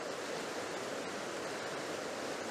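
A woodland stretch of the River Dart flows past fallen branches, giving a faint, even rushing of water with no breaks or other sounds.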